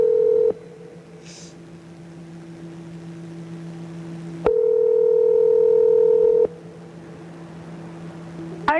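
Telephone call signal on a landline, with a steady dial-type tone and a louder two-second ring burst midway, close and alone with no voices.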